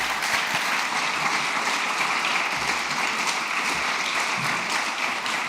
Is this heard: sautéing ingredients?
no